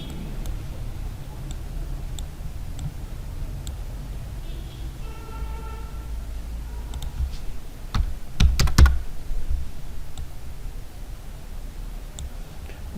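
A computer keyboard being pressed during work in After Effects, with sparse, quiet key clicks spread out and a brief cluster of sharper taps partway through.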